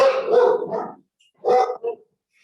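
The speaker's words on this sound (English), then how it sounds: "dog going crazy again." A dog barks loudly and close by: one long, rough bark followed by a quick pair of shorter barks, with no talking over it.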